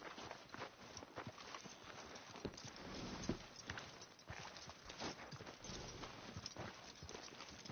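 Horse hooves clip-clop at a walk in Red Dead Redemption 2, a faint, steady rhythm of repeated hoof strikes on the ground with no talk over them.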